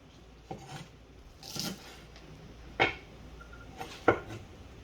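A knife slicing green onions on a board, about four separate crisp cuts spaced apart, close and fairly quiet.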